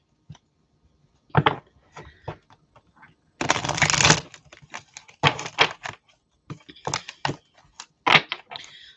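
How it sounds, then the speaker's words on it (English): Short bursts of riffling and snapping oracle cards, one longer ruffle in the middle, close and crisp with quiet gaps between. "Let me just give these a good shuffle."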